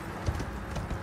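In the video game Elden Ring, a horse's hooves clip-clop softly in a short, steady run of footfalls under a dense background ambience.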